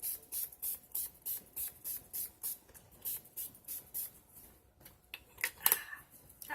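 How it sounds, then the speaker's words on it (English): Rose water spray spritzed from a bottle onto a face mask, a quick series of faint, evenly spaced hissing mists close by in a quiet room. "so I'm going to give it one more spritz."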